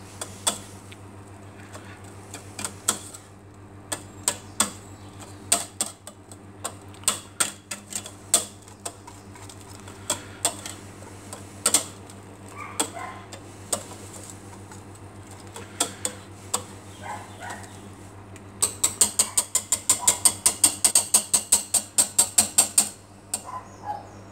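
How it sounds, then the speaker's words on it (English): A small hand whisk beats banana cake batter in a bowl, giving irregular bursts of quick clicking and tapping strokes that speed into a fast, steady rattle near the end, close and alone over a low hum. "my little hand whisk. Give that a nice little whisk there."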